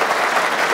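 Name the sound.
audience clapping in TV studio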